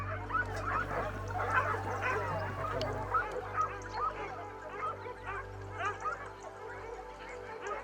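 A pack of hunting dogs barking and yelping at a wild boar during a Spanish montería, repeated excited calls at moderate distance over a low rumble, louder in the first few seconds and thinning out afterward.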